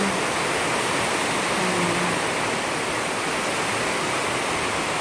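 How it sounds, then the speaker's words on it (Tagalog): Heavy rain pouring down outdoors in a steady, loud, unbroken hiss that fills the scene from start to finish, with no voices heard. "Lakas na naman ang ulan."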